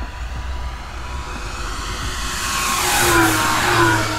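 An FMS Tigercat 1700mm RC warbird plane's electric motors whine at full speed on a pass, swelling from a distant drone to a loud, high-pitched howl with a falling Doppler pitch as it flies by.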